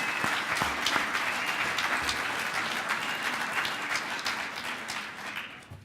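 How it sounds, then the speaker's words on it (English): Audience at the League of Oregon Cities annual conference opening ceremony applauding, a sustained, even round of clapping from a large crowd filling the room before tapering off at the end. "How about a round of applause for all of them?"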